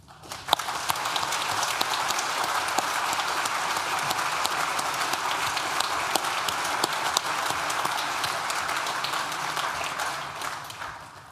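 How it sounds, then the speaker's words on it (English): A large graduation ceremony audience for the Nottingham School of Art & Design gives a long, dense round of applause, sustained clapping filling the hall at an even level before tapering off at the end. "please join me in thanking them with a well-deserved round of applause."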